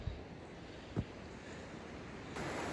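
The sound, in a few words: river water rushing with high pressure at night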